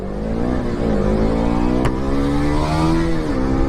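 A KTM motorcycle engine revs loud and close during an informal road race, its tone climbing and holding in a sustained roar with a brief sharp click midway, alone without talk.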